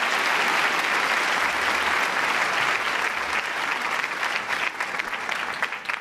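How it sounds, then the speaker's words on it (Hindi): An audience claps continuously at an award ceremony, a thick wash of applause that stays loud before thinning slightly toward the end. "आप सभी तालियां बजाकर उनका स्वागत कीजिए"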